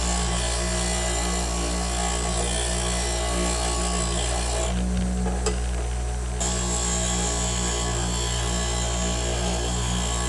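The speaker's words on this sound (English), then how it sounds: "You can also use this grinding rest. It works great for grinding lathe tools" A bench grinder grinds a lathe tool held on a homemade tool rest. A steady motor drone and a grinding rasp run throughout, with the grinding sound changing for a couple of seconds midway as the tool is worked.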